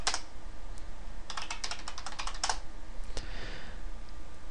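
Quick bursts of keystrokes clatter on a computer keyboard as a terminal command is typed, with short pauses between runs over a steady background hum.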